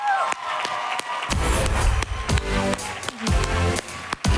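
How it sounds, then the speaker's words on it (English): Loud audience applause and cheering at a live seminar event, a dense wash of clapping with shouts and whoops rising and falling, some louder bursts and thumps among the crowd noise. "Let's give a big round of applause."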